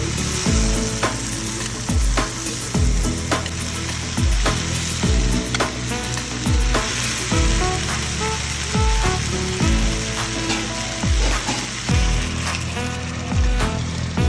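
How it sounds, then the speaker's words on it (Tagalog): Onions and other ingredients sauté until caramelized for a rainbow trout fish stew, a loud, steady sizzle broken by repeated rhythmic scrapes and taps of a utensil stirring the pan. "So we just sauteed it until it's caramelized to enhance the flavor."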